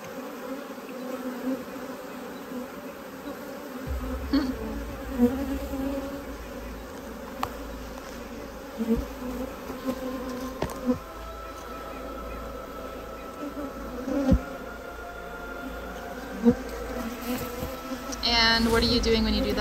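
Honey bees buzz continuously around an apiary during queen rearing and mating work, a steady close hum with occasional louder passes of individual bees and faint talk underneath.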